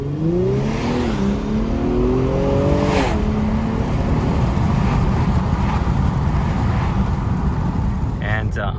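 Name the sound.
Infiniti Q60 Red Sport 400 accelerating hard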